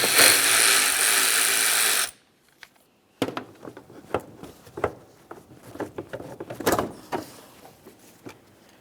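A screwdriver or 8mm socket loosens the clamp on the air filter housing of a 2003-2011 Mercury Grand Marquis, giving a few close metallic clicks and scrapes after a loud steady noise cuts out.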